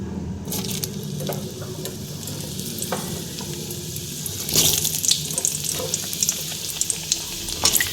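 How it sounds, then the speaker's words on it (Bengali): Potatoes with salt and turmeric frying in hot oil in a pan after fried hilsa and black cumin tempering, a steady close sizzle with occasional stirring scrapes and brief louder crackles. "এবার আলুটা ভেজে নিচ্ছি"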